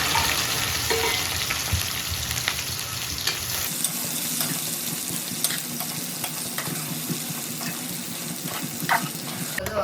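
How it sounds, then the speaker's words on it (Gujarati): Okra dropped into hot oil with cumin seeds, where a busy crackling sizzle shifts and grows harsher partway through, with occasional stirring clinks close by and no clear speech. "હવે ભીંડા નાખી દઈએ."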